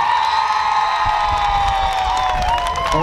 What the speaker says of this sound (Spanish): ¡Aplauso para mi tercer concursante!